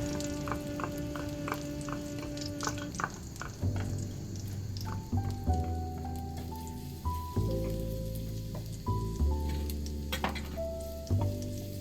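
Garlic sizzles in a frying pan for a four-flavor omelette, a steady, soft crackle like light rain running the whole time beneath tonal background music.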